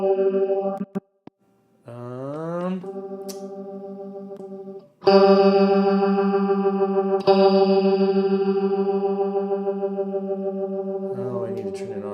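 Electric guitar runs through a Kemper profiling amp with a stacked micro pitch effect, giving sustained, shimmering chorused notes and chords that ring out loud and close, with short gaps between phrases.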